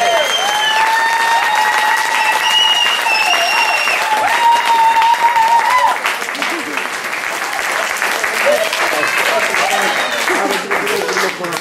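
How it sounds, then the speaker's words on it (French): A concert audience at a solidarity evening applauds two guitarists, loud sustained clapping from a crowd, with whistles and cheering voices riding over it in the first half before the clapping thins somewhat. "applaudissez-les"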